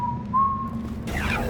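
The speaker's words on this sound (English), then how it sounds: "You walked up all those stairs, whistling Dixie." A video game character whistles a thin, wavering tune alone over low background hum in The Knife of Dunwall, the whistle fading as a brief rustle begins.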